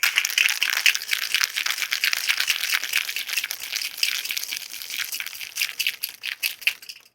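A bourbon flip with ice being shaken hard in a cocktail shaker, a steady close rattle and crunch of ice for about seven seconds, with no talking.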